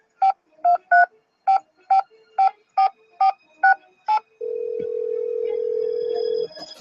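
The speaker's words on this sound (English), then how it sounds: "We'll call Bess. Actually, we'll call Bess now." Ten quick touch-tone beeps dial a phone number in a Nancy Drew mystery game, followed by a steady tone as the call connects, clear with no talking.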